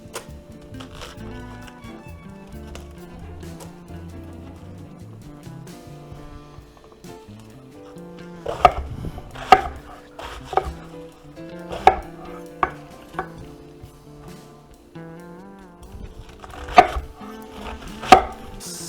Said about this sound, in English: Then we're gonna take our cabbage here. We're gonna cut it into wedges.